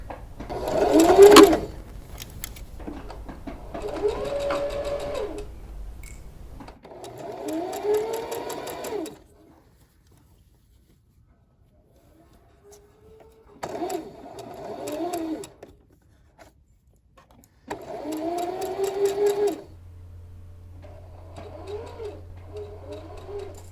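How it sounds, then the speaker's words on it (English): A sewing machine stitches a quilted coat seam in several separate runs with quiet gaps between them, close and moderately loud, with a low steady hum near the end. "we're stitching this at a 1/2 inch seam allowance"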